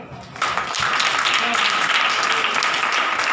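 An audience applauds Stephanus at a Hindi Bible study gathering, a steady wash of clapping that rises quickly and holds for a few seconds with some voices mixed in.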